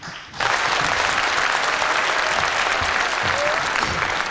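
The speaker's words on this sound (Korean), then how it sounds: "뜨거운 박수로 환영의 박수 부탁드리겠습니다." Warm welcoming applause from a seated audience at a Korean arts forum and panel discussion, starting abruptly after a brief pause and holding as a dense, steady wash of clapping at even loudness throughout.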